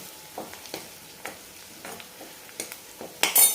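Kashmiri red chili powder and red chili powder sautéed in a pan, a faint low sizzle punctuated by intermittent soft stirring scrapes and taps of the spoon, close, ending in a louder clatter.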